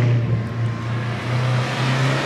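A modified BMW M4 LCI rumbles with a deep, steady engine drone, close by and fairly loud, holding a low throaty tone without words.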